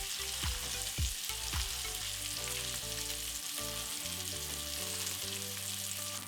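Rack of lamb searing fat-side down in a hot pan, a steady close sizzle with a few sharp spits and crackles early on, alone with no talking.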